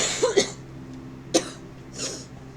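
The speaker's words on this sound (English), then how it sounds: "Sorry about that, just had a choking fit." Short, sharp coughs burst out in a quick pair, then one more cough and a softer throat clearing follow, close to the microphone in a quiet room.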